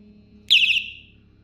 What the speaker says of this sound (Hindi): मेरी जो लाइट है उसमें से बीपर बजना शुरू हो गया है